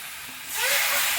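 Food in a hot pan bursts into a loud, steady sizzle partway through, a bright hissing spray that holds to the end.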